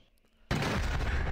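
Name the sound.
cannon firing in animation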